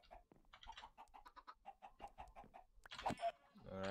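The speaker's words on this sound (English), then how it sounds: "I'm gonna kill the chickens for food." Chickens in the video game Minecraft cluck in a quick run of short, evenly spaced chirps at moderate volume, ending with a louder, rougher burst of sound.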